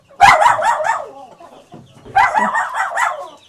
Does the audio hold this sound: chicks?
yes